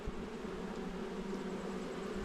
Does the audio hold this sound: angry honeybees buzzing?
yes